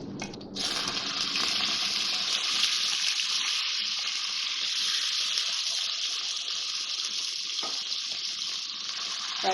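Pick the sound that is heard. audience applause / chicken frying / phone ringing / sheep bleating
chicken frying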